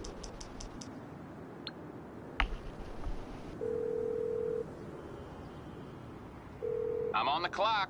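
A phone call rings inside a video game, a car duplication setup, where electronic tones and beeps sound in two longer bursts between clicks, with a short dialing-like flutter near the end and a voice talking faintly underneath.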